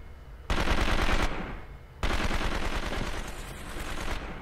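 Rapid machine-gun fire in the shooter game 24: The Game on PlayStation 2 comes in two long, loud bursts separated by a short pause, with the second burst running on to the end.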